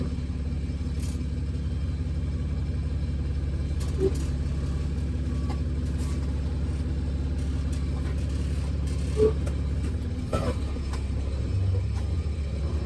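A bus engine drones in a low, steady rumble while it drags a log through deep mud, with faint clanks now and then and the pitch dropping briefly near the end.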